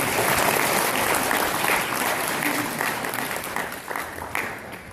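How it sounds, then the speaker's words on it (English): A crowd at a community talk claps in a loud, dense round of applause that gradually thins and fades toward the end. "Let's give her a big round of applause."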